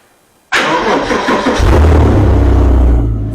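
Sudden loud ignition as a 365 bhp two-seater luxury car engine cranks and fires, settling into a deep, powerful rumbling idle close by.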